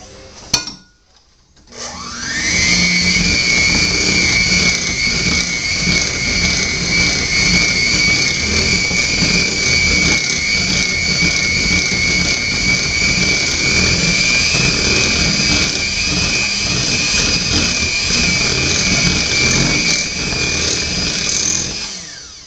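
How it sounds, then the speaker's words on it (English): An electric mixer beating chocolate cake batter in a bowl, starting up after a brief clunk and then holding a loud, steady, high motor whine close by for about twenty seconds. "After you've got that beat together with your mixer"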